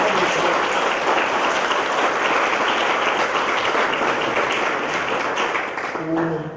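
An indoor audience at a castle exhibition gives warm, sustained applause for a klapa singing group. The clapping is dense and even, and thins out at the end as a voice comes in.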